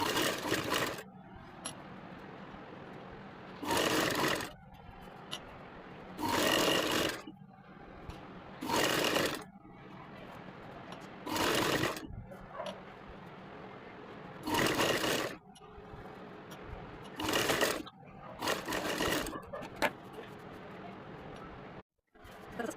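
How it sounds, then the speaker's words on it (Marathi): A sewing machine stitching the back of a one-year-old girl's petticoat runs in repeated close bursts of a few seconds each, separated by quieter pauses with faint handling noise. "आता तसंच बॅक साईडला इथून शिलाई मारून घ्यायची"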